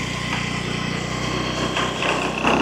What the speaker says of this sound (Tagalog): Dahan-dahan lang ang pagpiga ng silinyador.